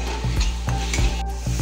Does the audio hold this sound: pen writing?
no